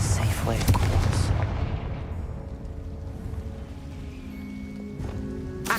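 A loud blast from the Confringo fire spell in the game Hogwarts Legacy, a heavy booming burst up front that fades into a low rumbling tail, with another faint crack near the end.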